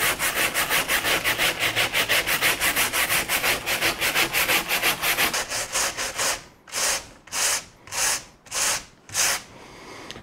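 An old wire brush scrubbing the headliner board from a Chevy Silverado Crew Cab, fast rhythmic back-and-forth rasping strokes, close and loud, slowing into about six longer, separated strokes near the end.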